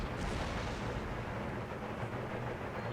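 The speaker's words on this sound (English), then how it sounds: "We're losing men to the bloody mortar." Continuous low, dense rumble of mortar and artillery fire from an Empire: Total War battle, a steady booming wash with no distinct individual blasts standing out, and no talking.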